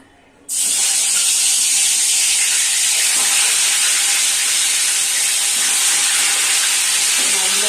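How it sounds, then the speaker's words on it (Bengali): Fish sliding into hot mustard oil in a wok, bursting into a loud, sudden, continuous hiss of frying that holds steady without letup. "এবার একে একে আমি মাছগুলো ভাজা শুরু করবো।"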